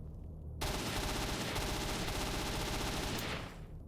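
Sustained automatic rifle fire in S.T.A.L.K.E.R. Anomaly, a dense rattling burst starting abruptly after a brief pause and roaring loud and continuous for about three seconds before cutting off, with no talking.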